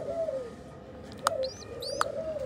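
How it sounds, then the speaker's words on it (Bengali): A baby pigeon chick calls up close with soft falling coo-like notes and two sharp high chirps over a faint background hum, with no talk. "বাচ্চা যে ছোটটা কিরকম শব্দ করতেছে দেখেন গাইস"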